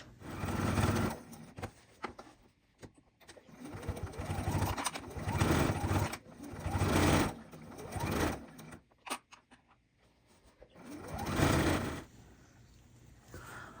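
A sewing machine stitches binding onto black fabric with black thread, its motor running in several loud bursts of a few seconds each, separated by brief pauses, with no talking.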